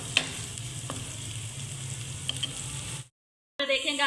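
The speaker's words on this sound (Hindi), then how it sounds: "अब प्याज को हमने अच्छे से ब्राउन करना है, गोल्डन जितना हम करते होते हैं उतना करेंगे।" Onions fry toward golden brown with a steady, close sizzle and a few light stirring clicks. The sound cuts to silence near the end, then a brief unrelated sound follows.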